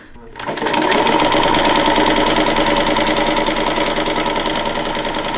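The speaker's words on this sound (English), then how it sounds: "And then hold your tails and start sewing." A sewing machine runs steadily at high speed, stitching fabric to form gathers, its fast, even whirring and rattling close and loud for several seconds after a brief quiet start.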